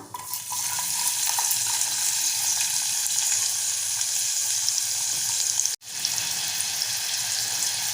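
Finely chopped medium onion hits hot oil tempered with cumin, setting off a loud, constant hissing fry that cuts out for a moment and then carries on.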